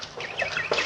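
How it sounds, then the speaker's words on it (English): Bird calls used as a sound effect in an old-time radio drama, a few short chirping calls close by over a faint background hiss, no talk. "Hey, listen to that bird."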